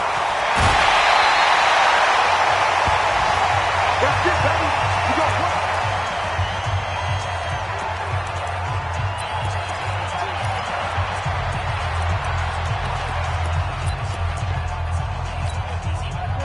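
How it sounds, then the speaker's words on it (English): Stadium crowd noise from an American football video game, Dolphins versus Patriots, swells into a sustained roar of cheering that holds steady throughout with a low rumble underneath. "The crowd getting into it as we come up on a big 3rd down."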